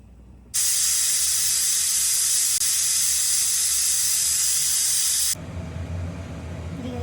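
A pressure cooker cooking tomato bath lets out one loud, sustained whistle of steady hissing for about five seconds, close by, then cuts off abruptly to a quieter background hum.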